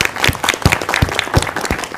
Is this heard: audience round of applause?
yes